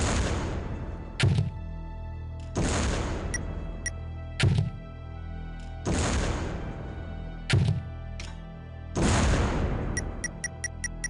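OICW grenade launcher in Soldier of Fortune 2 firing grenades past a brick barrier: four or five evenly spaced heavy launches with booming decays, each followed by a short thunk and small metallic clicks, loud and close.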